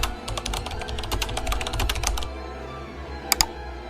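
Rapid clicking of keys on a computer keyboard, a close, busy patter for about two seconds, then quieter with two sharp taps near the end, no voices.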